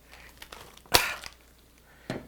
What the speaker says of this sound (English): So let's use the scissors to cut this off.